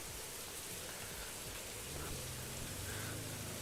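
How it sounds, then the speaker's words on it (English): Heavy rain falls in a roleplay video game, a steady dense hiss of downpour that holds at an even, moderate level throughout with no voices. "We got some heavy rain going on in Lawcountry"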